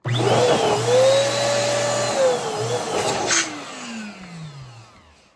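An electric balloon pump hums loudly and steadily as two balloons on its nozzle inflate for a Valentine's Day balloon column, the motor pitch wavering, then winding down and fading near the end.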